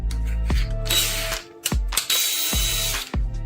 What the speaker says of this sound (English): just gently drill through without breaking this